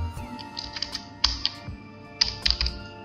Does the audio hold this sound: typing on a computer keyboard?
yes